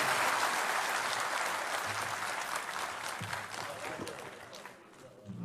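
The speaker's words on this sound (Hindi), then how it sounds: "अशोक के लिए एक जोरदार ताली बजा दीजिए जरा सा" Loud crowd applause for Ashok at a launch ceremony with a speech by a news anchor, dense and sustained throughout before thinning slightly near the end, with some voices mixed in.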